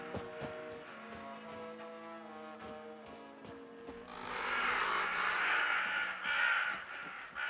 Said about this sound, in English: Ooh, look at these crows.